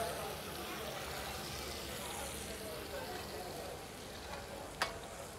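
Beetroots and artichokes glaze together in a single pan, giving off a steady, close sizzling and frying hiss that runs throughout, with a brief sharp clink near the end.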